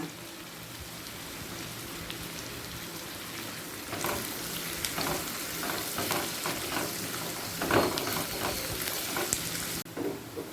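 Frying in ghee until reddish for an egg and black pepper dish, a soft steady sizzle that grows louder and busier partway through, with occasional stirring clatter.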